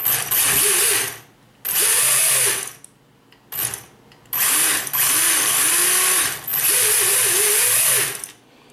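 Small RC electric motor driven through an ESC by a servo tester, spinning up in repeated loud whirring bursts with rising and falling pitch, separated by brief pauses, close by.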